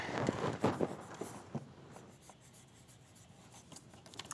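A pen writing an autograph near the top of a sheet of paper, a soft scratchy scribble in a few quick strokes, close and quiet, fading to faint room tone.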